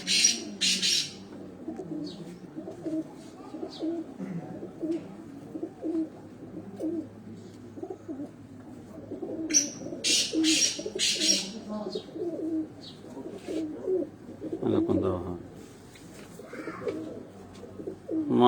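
Breeder pigeons coo steadily on a rooftop loft, their low, throaty calls overlapping near and far, with a few brief chirps and faint voices in the background.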